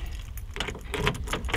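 Keys jangle and rattle close up as someone fumbles through the set for a 1983 Volkswagen Fusca. The metallic clinks come in quick bursts with no talking.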